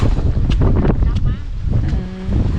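Strong wind buffeting the microphone outdoors at a rice field during planting, a loud continuous roar with gusts, voices faintly underneath.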